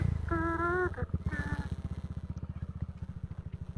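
Motorcycle being parked on firm beach sand at a campsite in Botolan, Zambales, its engine putting at a low, even idle close by, with a couple of brief tonal sounds near the start.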